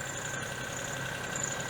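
A Daewoo Matiz engine idling smoothly after its idle control was adjusted, giving a brief, even, steady hum with no change in pitch or level.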